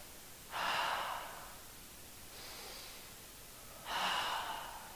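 Slow deep breaths during a yoga pose in a veteran and first responder class: two breathy exhales with a softer inhale between, close and quiet, no talk.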